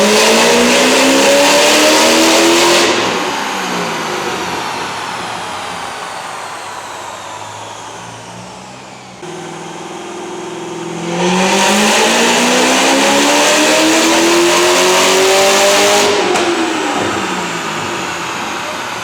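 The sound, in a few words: car engine revving on dyno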